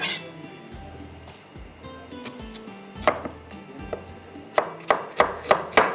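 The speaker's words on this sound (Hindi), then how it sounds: "प्याज को हम कटिंग कर लेते हैं" A knife chops onion on a board for biryani. Irregular close chops come first, then a quicker run of sharp, evenly spaced knocks toward the end, with no talking.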